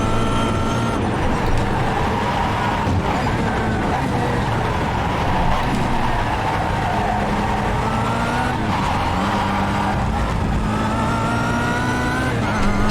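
Kia Optima front-wheel-drive race car at Oran Park in iRacing, engine droning steadily and loud throughout, with tyre scrubbing and shifting engine tones, no talk.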